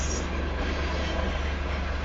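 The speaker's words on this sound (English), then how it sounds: "The wheels are spinning a little bit too fast." A Union Pacific southbound grain train on the Spine Line with its wheels spinning on the rails: a steady, loud, continuous rumble and roar that holds even throughout, with no voices.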